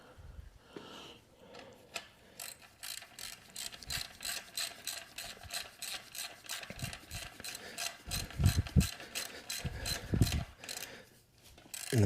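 A ratchet clicks in a steady rapid train while the top engine mount nuts are snugged down on a Kubota RTV1100 utility vehicle with a D1105 engine, fairly quiet, with some low thumps and handling noise partway through.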